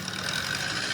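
Motorcycles pass along the motorcycle lane on Commonwealth Avenue, giving a steady blend of engine rumble and road noise with no clear break or single standout pass.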